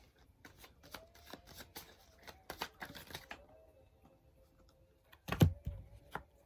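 Tarot cards are shuffled in a series of quick, close, papery riffles and taps, then a brief pause, followed by a sharper snap and slide as a card is drawn from the deck. No one speaks.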